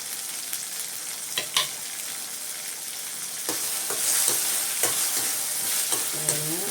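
Masala frying in oil for a vegetable biryani, stirred with a spoon, gives a steady close sizzle broken by scraping strokes and clinks, growing slightly louder midway, with no talking.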